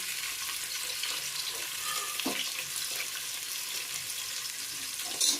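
Sliced onions frying in a pan for vegetable biryani produce a continuous, even hiss of oil, close and steady, with a brief clink near the middle and no voices.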